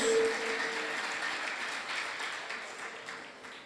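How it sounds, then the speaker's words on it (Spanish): A church congregation applauds during a sermon, a faint, distant wash of clapping that gradually fades over a few seconds. "Dele un fuerte aplauso al Señor"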